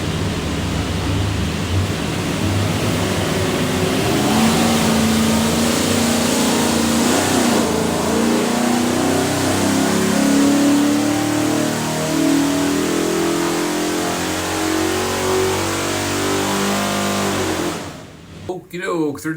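A 408 Windsor V8 in a 1993 Ford F150 runs on a dyno, roaring loud and steady as it revs climb through a long pull before dropping off abruptly at the end.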